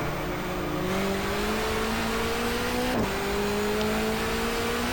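Simulated touring car engine from GTR2 at a 1994 Asia-Pacific Touring Car Championship race, droning steadily, then a sharp blip near the three-second mark as it drops to second gear and the pitch climbs again.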